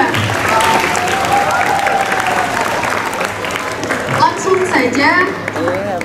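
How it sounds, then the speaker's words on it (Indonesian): A crowd applauds at a school student council candidate debate, with loud, sustained clapping filling the room while a voice speaks over it toward the end. "Berikan aplaus yang meriah untuk paslon nomor 2"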